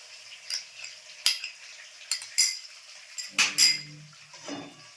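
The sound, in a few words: stirring beaten egg in a pan for chicken chow mein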